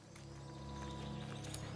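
In the Soulframe video game, horse hooves clip-clop in a soft, steady rhythm under a layer of ambient game sound and a low rumbling bed, moderately near and fairly quiet.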